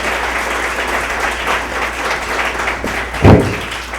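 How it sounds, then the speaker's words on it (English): Audience at a comedy show applauding as a comedian is welcomed on stage, a steady roar of clapping close and loud throughout with a brief thump near the end. "Clap for Luan Bexheti"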